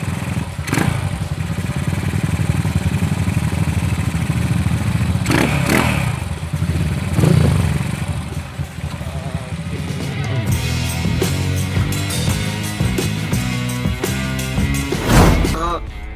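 A Honda CB motorcycle being ridden, its engine running steadily with some revving and clattering bumps, heard up close under wind noise, with people talking over it.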